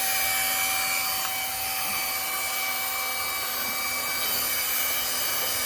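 A mixer runs steadily through a bucket of two-day-old chicken manure fertilizer tea, giving a continuous whirring churn with a faint high whine, close and loud with no talk.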